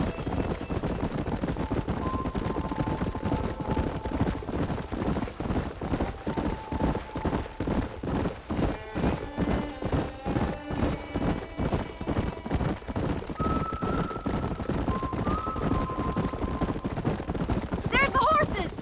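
Rapid, steady clip-clop of galloping hooves in Red Dead Redemption fills the scene, with several horses running close by, joined by a couple of brief whinnies and a busy outdoor backdrop.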